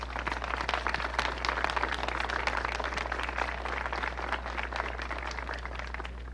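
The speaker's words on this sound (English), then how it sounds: "I'd like for all of us to give them a round of applause." Audience applause at a college ribbon cutting ceremony for a newly renovated quad, steady dense clapping that continues at an even level throughout over a low constant hum.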